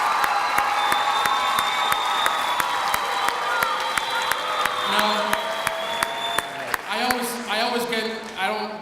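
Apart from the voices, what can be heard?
audience applause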